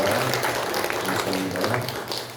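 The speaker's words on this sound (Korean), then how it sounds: "하나님께 영광 박수 올려드리겠습니다" A short burst of congregation clapping fills a church during a Korean worship service, steady and moderately loud, with no voices standing out.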